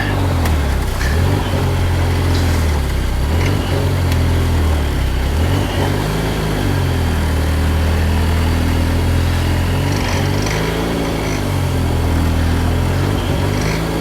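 Ecoboost-swapped DeLorean engine running loud and steady inside the car, a deep droning rumble with slow swells in revs throughout, no talking over it.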